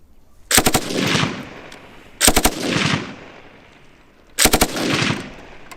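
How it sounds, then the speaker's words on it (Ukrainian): Maxim machine gun firing in three short bursts of a few rounds each, loud and sharp with a long echoing decay after each burst. "А це наш ветеран, кулемет Максима."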